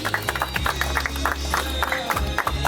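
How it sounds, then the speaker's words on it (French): Wedding guests at a nuptial ceremony clap in a steady rhythmic beat for the bride and groom, with music playing underneath and the crowd close by. "On les applaudit"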